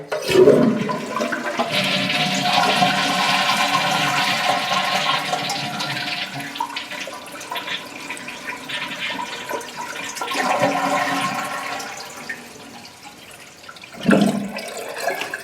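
A toilet flushes to drain the tank while replacing a flapper valve, with a loud rushing gush of water that tapers into a steady refill trickle, then a second brief surge near the end.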